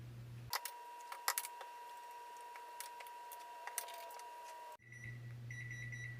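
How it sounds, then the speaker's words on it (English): A kitchen timer goes off while fish cooks, a run of sharp, quiet electronic beeps alone for about four seconds, then stopping into a low kitchen hum. "second timer's done"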